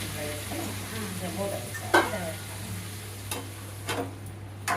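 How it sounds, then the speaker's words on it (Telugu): Mutton blood fry being stirred in a pan, with a steady low sizzle of frying and a few sharp scrapes of a spoon against the pan, close and alone with no talk. "మంచిగా 5 నిమిషాలు కలపాలి."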